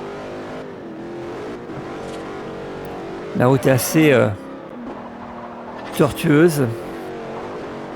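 Car engine in Forza Horizon on Xbox 360 revving up in two loud bursts with rising pitch sweeps and gear shifts, under near-constant talk.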